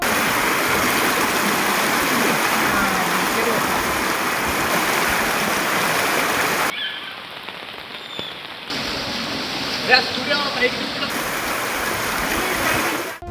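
Flood water from the overflowing Ratnala pond mixing with rainwater, a loud continuous rushing flow, broken by a brief cut to quieter sound before the rushing resumes.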